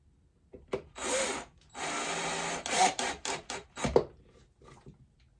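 A power drill driving four screws into a wooden cigar box guitar, with several whirring bursts of varying length broken by short pauses and a clack, close and fairly loud, with no talk.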